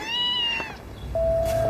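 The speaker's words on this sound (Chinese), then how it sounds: "我听见有猫叫" A cat gives two clear meows, the first a drawn-out cry and the second a higher, steady mew after a short pause, heard alone in a quiet indoor space.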